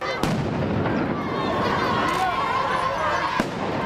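Firecrackers bang a couple of times amid a noisy crowd of protesters clashing with police, sharp pops cutting through steady background commotion.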